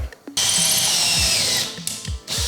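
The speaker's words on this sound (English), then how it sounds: "I do wanna do a quick test drill just to be on the safe side" A power drill whirs loudly into a wooden wall stud in one sustained close burst, then a short second burst, with light handling knocks between and no talking.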